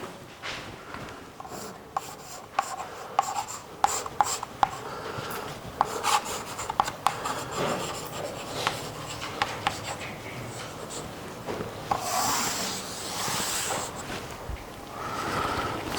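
A lecturer writes on a board during a mathematics lecture, with steady rubbing and scratching strokes punctuated by sharp taps of chalk or marker, continuing alone without speech for the whole stretch.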